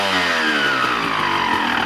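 A Honda CR250 two-stroke motorcycle engine warms up at a fast idle. The close, loud, buzzing drone holds steady with a slightly falling pitch, and there is no talking.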